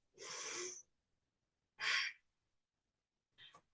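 Three audible breaths during a yoga session: a long breathy inhale, a shorter sharp one, then a brief faint exhale, each separated by silence.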